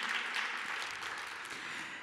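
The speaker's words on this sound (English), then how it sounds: "Oh yeah, and some applause." Audience applause at an award ceremony, a steady, soft wash of clapping that holds evenly from start to finish with no voices over it.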